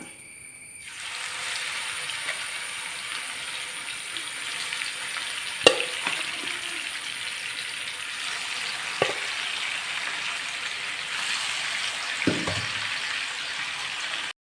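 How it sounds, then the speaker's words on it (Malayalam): Chicken pieces sizzle steadily in hot oil, a soft continuous crackle with a few faint clinks of a utensil. "ബാക്കിയുള്ള പീസും ഇതുപോലെ ഒന്ന് ഫ്രൈ ചെയ്ത് എടുക്കണം"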